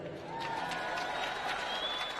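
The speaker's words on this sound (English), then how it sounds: "Give yourselves a hand." An audience claps throughout, a steady wash of applause from a crowd filling the room, fairly even in level from start to finish.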